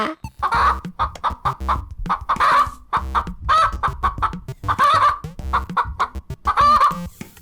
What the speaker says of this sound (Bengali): তোর মুরগিটা এমন অদ্ভুত ভাবে ডাকছে কেন